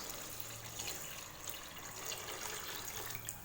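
Water pours steadily into a pot of cooked mutton for dum biryani, a continuous close gushing stream with light splashing.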